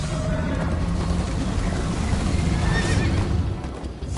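A horse in the Minecraft Story Mode video game gives a loud whinny over rapid galloping hoofbeats and a rumbling game soundtrack, fading slightly near the end.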